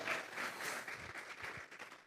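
A church congregation claps together as an offering of praise during a sermon, a steady, fairly faint patter of many hands lasting a couple of seconds.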